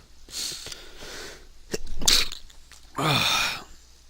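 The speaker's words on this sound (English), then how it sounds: "did not mean to sneeze in your guys' ears" A person with spring allergies sneezes close to the microphone, with breathy intakes and forceful bursts spread across a few seconds and no talking.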